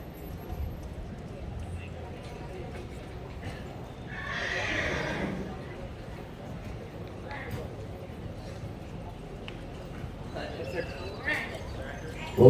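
A young horse being started under saddle at a colt-starting competition whinnies in one clear burst amid faint hoof clip-clops. A commentator talks over it, and the outdoor arena noise stays steady.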